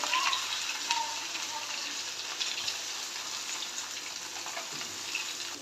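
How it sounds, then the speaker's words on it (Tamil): Dried fish frying in hot oil gives a steady, close hiss and crackle with small pops, continuous for several seconds. "கருவாடு எல்லாத்தையும் பொரிச்சு எடுத்துக்கலாம்."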